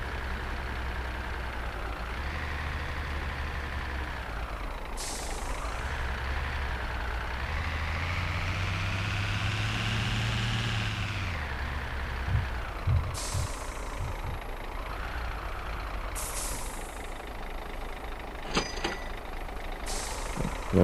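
A loaded red P310 truck carrying vegetables climbs a mountain road in Santa Catarina, its engine droning steadily throughout as the pitch rises and falls with gear changes, with occasional air-brake hisses and clatter near the end.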